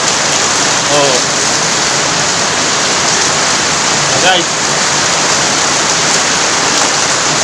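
Heavy tropical downpour roaring steadily as dense, hissing rain pours down, loud and unbroken throughout, with a voice briefly speaking over it.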